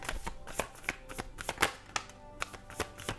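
Tarot cards shuffled by hand for a reading, a quick run of crisp riffling flutters and soft slaps at close range, repeating in uneven bursts with no talking.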